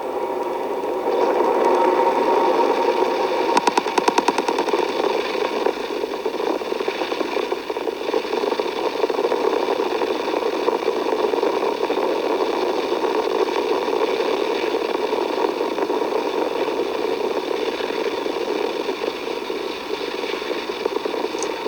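SpaceX Falcon 9 rocket engines during ascent after liftoff from Space Launch Complex, a steady broad roar with faint rattling crackle that holds at an even level throughout, heard from a distance with no voices.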